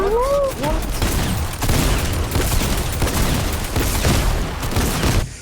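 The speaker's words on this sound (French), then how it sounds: "Dans le jargon, on appelle ça des grenades. C'est Fortnite." Grenades in Fortnite set off a loud, rapid string of bursts and rumbling blasts that runs through most of the clip, with brief voices heard at the start.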